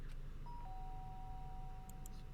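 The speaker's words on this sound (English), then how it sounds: "The sharp sound of the doorbell pierced my sleepy haze and pulled me back to the real world." Doorbell chime from the video game Danganronpa: a clean two-tone electronic ding rings out once, clear and close over a low background hum, with no one talking.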